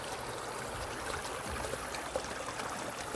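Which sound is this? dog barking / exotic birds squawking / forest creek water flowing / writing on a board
forest creek water flowing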